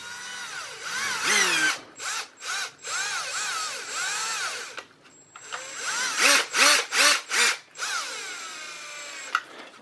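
Handheld power drill working on a Dell Precision T5500 workstation during an upgrade: a close, loud whine running for several seconds, dropping out briefly, then a series of short rhythmic pulses as the trigger is squeezed and released repeatedly, with no talking.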